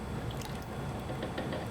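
Brine is poured into a big container for soaking boneless pork ribs, giving a steady close splashing and gurgling of liquid filling, with small drips on top.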